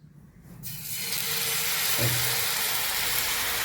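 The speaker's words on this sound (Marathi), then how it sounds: "असं चुर्र वाजला पाहिजे बारीकच ठेवायचा चुर्र वाजला पाहिजे" Onion batter drops into a hot pan and bursts into a loud, steady sizzle after a brief quiet start, with one soft low clunk partway through.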